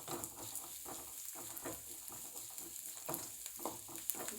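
Green chillies and onions sautéing in hot oil over a high flame, a continuous close sizzle and crackle with soft stirring scrapes throughout, no voices.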